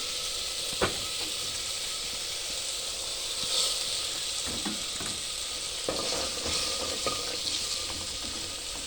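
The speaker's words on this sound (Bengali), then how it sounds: "দেখতেই পারছো মশলাটা ঝাল ঝাল কষা হয়ে গেছে।" Spice paste of turmeric, chili and cumin frying in a pan, a steady soft sizzle with occasional stirring scrapes and clicks, close and moderately quiet.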